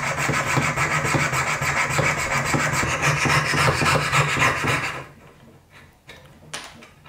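A fine saw blade cuts through wood on a Roubo workbench top, steady rhythmic rasping strokes close by for about five seconds, then stopping, followed by a few faint scrapes and knocks.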